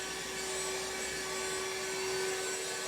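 Goodmans cordless wet and dry handheld vacuum running continuously, a steady whining motor hum with a constant pitched tone, moderately quiet and alone with no talk.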